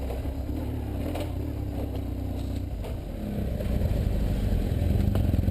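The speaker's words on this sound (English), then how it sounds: "this thing is just chugging up this hill here, low RPM" A BMW 1150GS motorcycle engine chugs uphill at low RPM off-road, a steady deep rumble that swells somewhat louder toward the end, with loose clatter mixed in.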